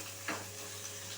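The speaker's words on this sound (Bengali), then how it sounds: "পেঁয়াজটা হালকা একটুখানি ভেজে নেব।" Sliced onion fries lightly in a pan with a soft, steady sizzle, one brief stirring scrape partway through, quiet and close with no talk.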